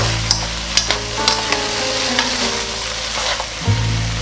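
Vegetables with green onion and green and red chili peppers stir-fry in a pan, a steady close sizzle broken by several sharp scraping clicks of a utensil against the pan.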